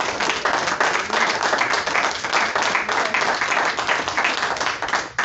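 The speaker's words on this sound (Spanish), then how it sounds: "Le damos un aplauso al Señor" A church congregation claps together during a Spanish-language sermon, a dense, fairly loud wash of many hands that keeps going evenly and cuts off near the end.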